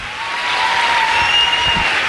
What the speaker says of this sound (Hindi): जोरदार तालियों का बहुत बहुत धन्यवाद